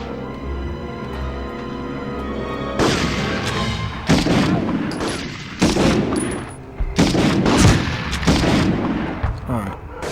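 Grenade blasts and gunfire in a 1999 PS1 shooter game: loud, repeated booming bursts in irregular succession, each with a noisy crackling tail, following a steadier stretch of game sound.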